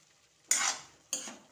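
Freshly cut potatoes are stirred in a kadhai, two quick scraping, sizzling strokes about half a second apart, close and fairly quiet, with near silence in between.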